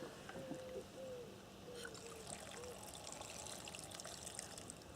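Water is poured into a cooking pot on a boat's galley stove, heard as a steady close trickle and splash against faint background noise.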